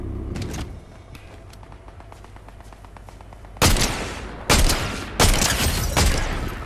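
Loud bursts of gunfire in Fortnite, several sharp volleys in the second half after a quieter stretch with faint ticking.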